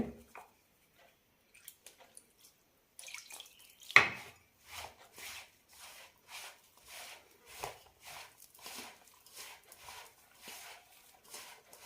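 Ragi flour murukku dough is kneaded by hand with cold water in a bowl, a sharp knock early on followed by a run of soft, wet, rhythmic squishing pushes, close and quiet with no talk.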